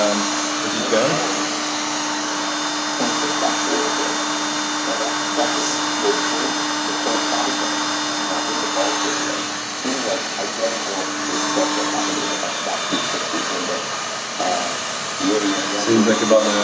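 A heat gun blows hot air steadily in close range while working on a Pioneer CDJ, a continuous broad rushing whoosh with a faint steady tone underneath, holding level throughout with small bumps.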